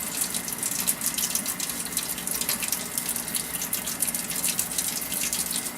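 Tap water runs steadily into a sink while a kitten is bathed at home, a continuous close splashing gush with no voices.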